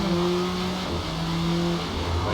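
A 2005 Acura ARX race car engine in Forza Motorsport, driven at Suzuka Circuit in the rain, holds a steady mid-pitched drone with faint shifting revs throughout, loud and continuous with no talking.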